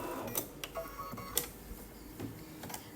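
An embroidery machine stitches all-over quilting on a needle book in the hoop, making a fast, light, steady ticking and clicking with soft mechanical whirring throughout.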